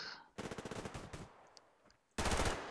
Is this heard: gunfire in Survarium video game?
yes